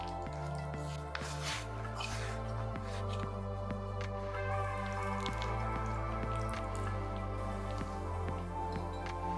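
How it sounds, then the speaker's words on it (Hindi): Flour dough for papdi, made with oil, salt and cumin, kneaded firmly by hand, giving soft repeated squishing and sticky slapping sounds at a steady rhythm, close and fairly quiet, with no one talking. "और मैदा को टाइट करके गूंद लेंगे।"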